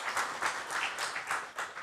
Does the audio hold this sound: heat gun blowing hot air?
no